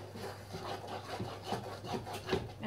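A spoon working through a thick chocolate nut bar mixture in a pan over medium heat, a soft rhythmic rubbing and scraping that is quiet and close, with no voices.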